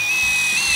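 A Bad Dog multi-purpose drill bit bores into stainless steel, giving a steady high-pitched whine that stays close and constant throughout, with no voices over it.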